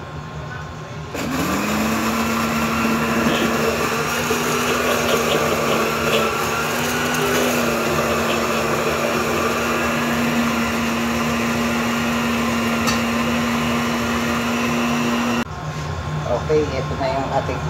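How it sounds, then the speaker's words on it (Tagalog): A blender grinding dried chili whirs up to a steady, loud grinding drone that runs for about fourteen seconds before cutting off, with background noise before and after. "Blender natin siya para maging pino."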